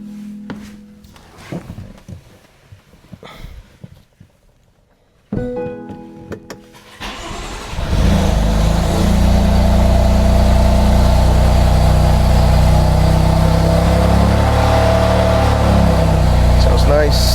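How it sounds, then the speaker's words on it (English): A decatted BMW M3 with downpipes and no catalytic converters cold-starts after a few quiet clicks and thumps, then settles into a loud, steady, rumbling idle that fills the rest of the clip. "let's do a quick startup and see how she sounds"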